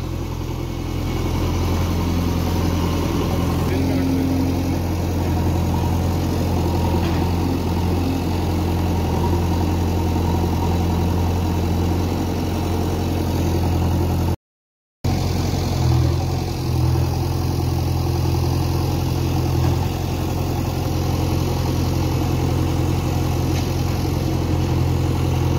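A tractor engine idles steadily while organic manure is loaded onto it at Manva Kheda near Udaipur. The low, even rumble runs loud and unbroken apart from one brief dropout, with no talking over it.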